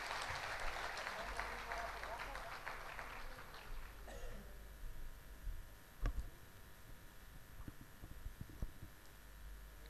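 An audience in a hall claps to welcome a speaker, with dense applause for about four seconds before it fades into a quieter room with a few scattered sounds.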